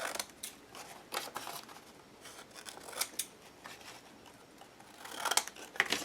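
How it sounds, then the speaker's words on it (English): Scissors snip the corners of a fabric-covered heart in a quick series of short, sharp, close cuts spread across the moment, with no talking. "I'm going to cut the corners."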